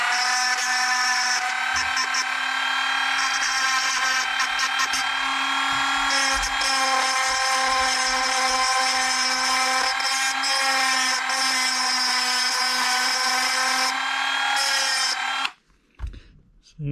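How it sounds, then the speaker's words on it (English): A Dremel rotary tool cleans the shoes of a four-shoe RC clutch (Alpha Plus), holding a close, steady, high-pitched whine for about fifteen seconds with slight shifts under load, then cutting off abruptly. "I guess I'll show you the Dremel part of it"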